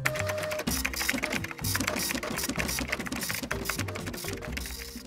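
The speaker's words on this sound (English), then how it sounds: "So let's get typing." Rapid typing on a computer keyboard for a tiny flight simulator build, busy clicking keystrokes in quick irregular bursts close up, with a mechanical clatter and a faint tonal hum underneath.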